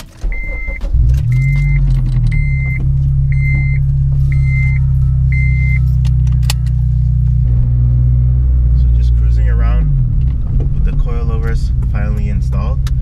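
A Honda Civic Si on newly fitted K-Tuned coilovers, engine idling then rumbling steadily while driving, with repeated chimes at the start and a voice speaking briefly near the end.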